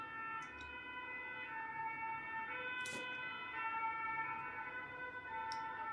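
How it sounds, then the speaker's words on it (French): An ambulance siren wails steadily outside, its rising and falling tones holding throughout at moderate distance with no voices over it. "vous aurez toujours les ambulances"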